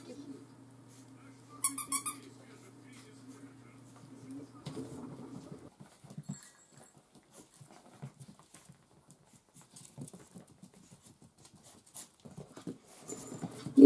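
Puppies shuffle and scrabble around close by, with soft pattering, a brief squeaky toy chirp early on, and quiet panting and snuffling.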